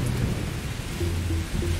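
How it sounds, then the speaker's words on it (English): Heavy rain pours steadily during a thunderstorm, with low rumbling thunder rolling underneath, loud and continuous, no voices. "lightning strikes."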